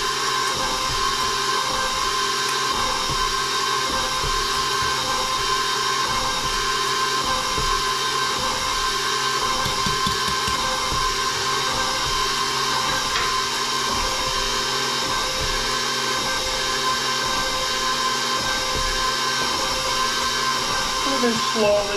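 An electric mixer whirs steadily and loudly, blending molasses cookie ingredients with cream of tartar, a constant motor drone running unbroken throughout.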